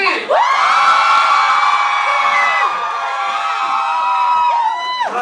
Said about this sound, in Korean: 은호를 향한 소녀들의 함성 소리.